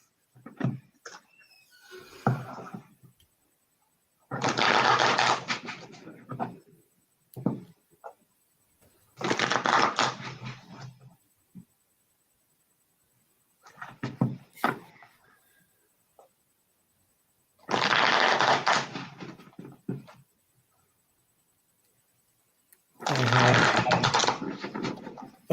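Deck of cards shuffled during a board game playtest, five separate bursts of riffling and bridging, each lasting a second or two, close and fairly quiet, with short pauses and small handling sounds between them and no talk.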